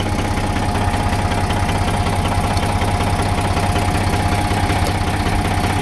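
A tractor engine runs in a cotton field, giving a loud, steady low rumble with a faint knocking texture that holds unchanged throughout, and no voices.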